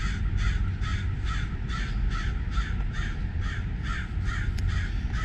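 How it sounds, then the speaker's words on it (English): A raven beside a river caws repeatedly in a steady rhythm, about a dozen loud, close calls evenly spaced over several seconds with no voices. "There's a raven."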